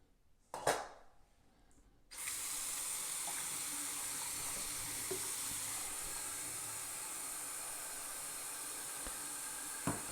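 Tap water runs steadily into a container being filled about halfway during a power station demonstration, a continuous hissing stream that starts abruptly after a brief clatter and carries on alone to the end.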